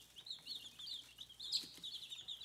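Young chicks, including Brahmas, peeping and clucking in a brooder enclosure, a continuous busy chatter of quiet high chirps close by.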